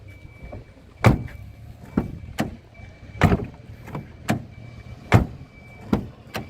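A series of solid thuds, a Renault Megane 2 door with silicone seals shutting repeatedly at close range, about six times at roughly one-second intervals.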